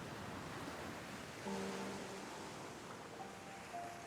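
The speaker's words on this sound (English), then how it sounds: "I could hear the ocean waves." Ocean waves wash in a faint, steady hiss and low rumble, with a brief low tonal hum rising once through the quiet surf.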